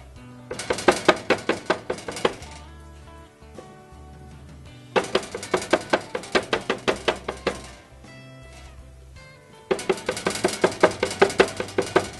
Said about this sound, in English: I'm going to use a mallet and I'm going to beat the meat a little bit